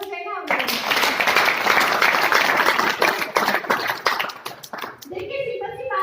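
Sustained audience applause with dense clapping at a network marketing speech, loud and steady for several seconds before fading, with a voice resuming at the end.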